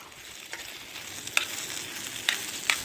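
Mexican food frying in a pan over a campfire in Scottish woods, a soft steady sizzle with a few sharp crackles and pops, moderately quiet and free of talk.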